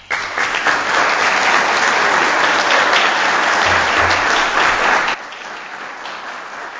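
Sustained, loud audience applause at a Board of Mayor and Aldermen meeting, honoring Laura Jenkins; dense clapping fills about five seconds, then drops abruptly to a quieter continuing patter.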